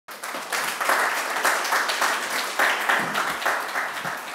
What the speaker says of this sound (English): I hope if you have any applause, it should be for John just as much as for me